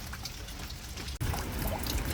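Rainwater from a house gutter runs into a catchment barrel during a light drizzle, a continuous close splashing pour with a brief dip and one sharp knock midway before the flow resumes.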